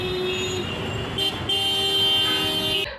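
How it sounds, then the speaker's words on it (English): Car and tuk-tuk horns on a busy Indian street: a sustained, loud honk with overlapping toots over steady traffic rumble, cutting off abruptly near the end. "Also the honking of cars or the honking of tuk-tuks"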